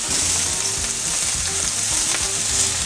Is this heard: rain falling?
no